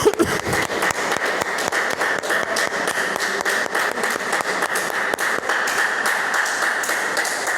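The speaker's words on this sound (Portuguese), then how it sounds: "pode aplaudir o Senhor?" A church congregation applauds together during a Portuguese-language sermon, with dense, steady clapping at close range that carries on for several seconds without words.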